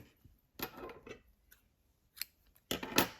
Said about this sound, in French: maintenant, je vais pouvoir couper mon fil bleu